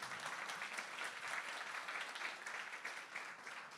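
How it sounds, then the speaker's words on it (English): Steady applause from an audience at the launch of a climate exhibition, a dense even patter of many hands clapping for nearly four seconds without pause, moderately distant. "A round of applause for everybody."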